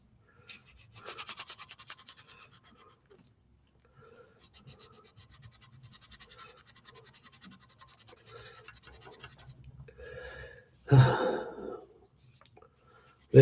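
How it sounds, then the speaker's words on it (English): Hand sanding a small workpiece, heard as bursts of rapid rhythmic scratching strokes at close range, pausing between passes, followed by a couple of louder knocks near the end. "let's get that sanded down a little bit."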